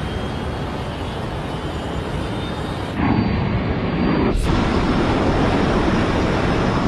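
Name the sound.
airplane taking off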